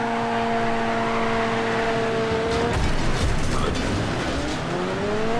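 A rear-engine car in Next Car Game pre-alpha gives a loud, continuous engine drone with a whining tone that sinks, breaks into rougher noise, then climbs again as the car drives on.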